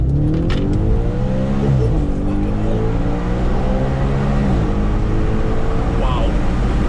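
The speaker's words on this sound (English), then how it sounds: "I'm just going to take it for one quick little blip" Audi RS5 2011 V8 sends out a loud, sustained throttle blip and revving, its engine note rising and falling in harmonic sweeps for several seconds.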